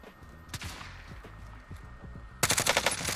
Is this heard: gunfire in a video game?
yes